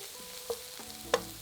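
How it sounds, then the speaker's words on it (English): Finely diced red onion cooking in olive oil and melted butter in a pan, a quiet sizzle with a couple of sharp utensil clinks from stirring, no talk. "Add a finely diced red onion and cook for about 3 minutes, stirring often until it starts to soften."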